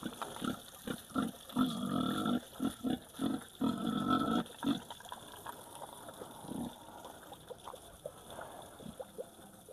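On a farm on a hot day, a pig is bathed with water, giving a rapid series of grunting, splashing bursts that then fade into quieter wet sounds, fairly faint and without talk.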